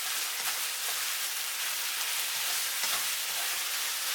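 Pork sautéing in a pan for a satay-spiced stir-fry, a steady bright sizzle with a few soft scrapes of stirring, close and unbroken.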